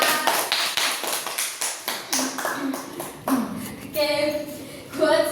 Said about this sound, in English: Give applause for us